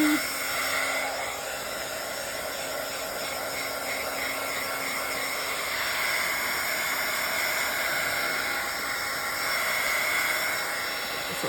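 Hair dryer blowing air through a wet page in a Bible journal, a steady loud whooshing hiss that holds without a break.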